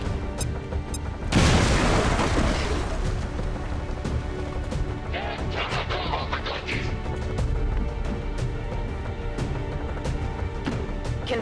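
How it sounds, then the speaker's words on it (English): A grenade goes off in the video game XCOM 2 with a loud, sudden boom and a long crashing, rumbling tail, followed by scattered debris clatter over a continuous background bed. "Throwing grenade."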